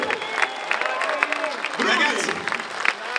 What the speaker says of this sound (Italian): gli applausi sono tuoi!